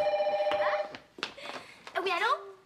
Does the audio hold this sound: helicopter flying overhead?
no